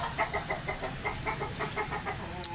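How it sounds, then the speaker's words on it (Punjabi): A Mianwali Aseel rooster clucks in a rooftop pen, a series of short, evenly spaced low calls at moderate distance, with no talk over them. "ਮੀਆਂ ਵਾਲੀ ਨਸਲ ਦਾ ਮੁਰਗਾ"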